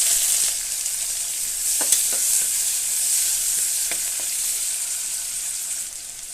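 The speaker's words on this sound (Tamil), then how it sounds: "வெங்காயம் வந்து பொன்னிறமாக வர வரைக்கும் வதக்கணும்" Onions sautéing in oil in a pan for vegetable pulao give a steady, close sizzle with a few light stirring scrapes, and nobody speaks.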